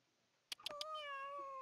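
Three quick clicks, then a cat in The Sims lets out one long, drawn-out meow that holds steady and clear over a quiet backdrop.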